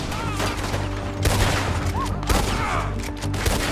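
Gunfire in Red Dead Redemption 2, a rapid fusillade of loud close shots in bursts over several seconds, mixed with game music and brief voices.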